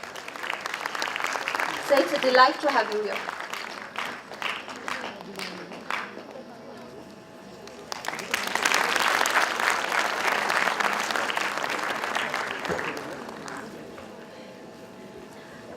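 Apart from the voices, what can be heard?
audience applause at conference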